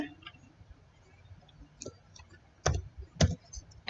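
Keys tapped on a computer keyboard during an OpenSSL encryption lab, a few sparse quiet clicks followed by two louder distinct keystrokes near the end.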